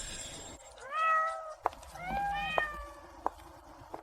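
A cat meows twice in drawn-out, rising-and-falling calls, close and clear against a quiet background, with a few sharp soft thumps in between and after.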